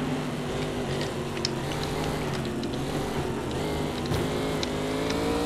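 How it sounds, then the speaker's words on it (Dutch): Race car engine from the racing video game Race Driver Grid, a steady loud drone with shifting pitch tones held throughout, no talk. "Oké, wat maakt deze auto trouwens zo'n lawaai?"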